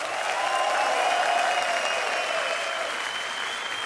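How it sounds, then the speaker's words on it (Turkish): Studio audience on a Turkish television show applauding a female model finalist, a broad, continuous wash of many hands clapping, sustained and even with a faint tonal hum underneath. "Hanımefendiye ayrı bir alkış alalım"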